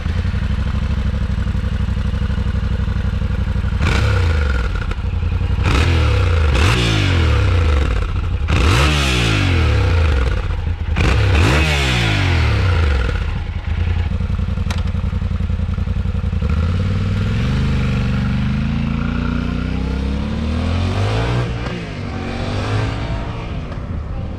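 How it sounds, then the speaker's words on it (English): A 2021 Yamaha Tenere 700 motorcycle with its stock exhaust idles loudly and close, then revs repeatedly in sharp bursts that rise and fall before it settles back to a steady, rumbling idle; no one speaks. "this is how it sounds in standard form"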